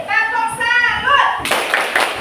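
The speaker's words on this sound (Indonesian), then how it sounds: "beri tepuk salut kepada kelompok kelinci. Tepuk salut." A group of children in a classroom give a rhythmic salute clap, a short burst of sharp, loud hand claps that follows a stretch of a voice chanting or speaking.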